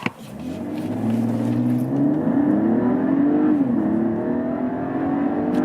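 A premium SUV engine, one of an Audi Q8, BMW X5, Porsche Cayenne or Mercedes GLE, pulls hard up to 50 mph, its rising drone climbing steadily in pitch under a sustained, fairly loud whir, with no talking.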